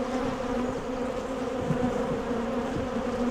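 Honeybees buzz in a dense, continuous drone from an open hive during a queen check, steady and close throughout with only slight variation.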